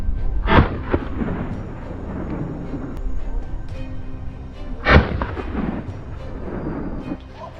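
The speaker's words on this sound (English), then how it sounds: "I stood my ground, gripped the rifle tightly, and opened fire." Rifle shots fired at wild boar on farmland ring out as two sharp, loud cracks a few seconds apart, each trailing a short rumbling echo over outdoor background noise.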